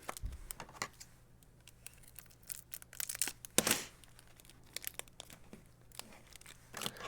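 Tape being pulled and peeled off packages of trading cards, with scattered crinkling rips and one louder tearing burst midway, close and alone without talk.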